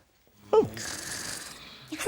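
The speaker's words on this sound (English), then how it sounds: "Who's that snoring?" Cartoon craft shapes on a children's television craft show snore aloud: a brief breathy snore tone between two short vocal snorts, close and clear, with no talk.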